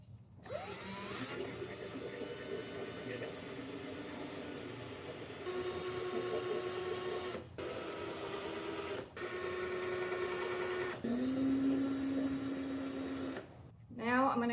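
A power drill bores holes in wood for a custom couch arm table, its motor a steady close whine that shifts pitch several times with brief stops between runs.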